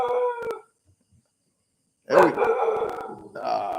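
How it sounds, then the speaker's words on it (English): A couple of dogs bark and howl nearby at a house in Chiang Mai, Thailand, in two loud bursts separated by a short silence. "Got a couple of dogs barking at me because I'm talking."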